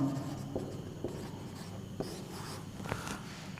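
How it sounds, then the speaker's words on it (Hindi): Pen or marker writing out a physics solution on a board in a classroom lecture, with short scratchy strokes and taps repeating irregularly, fairly quiet and close, with no talking. "यहाँ पे मैं इसका सलूशन लिखता हूँ"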